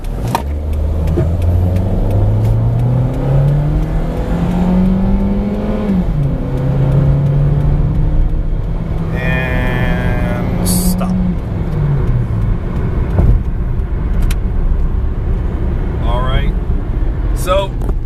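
A 2006 Toyota Corolla LE accelerates hard from a standstill to 60 mph, engine tone rising through gear changes over a steady cabin drone, with people talking over it.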